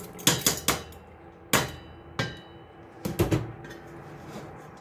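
A wide cooking pot being washed in a kitchen sink, giving sharp metallic clanks and knocks in short clusters, close and loud against a low watery background with no talking.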